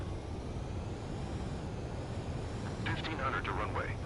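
Aircraft landing on a carrier in the video game Ace Combat 7: a steady jet engine roar and airflow hiss fill the scene, with a brief warbling tone near the end.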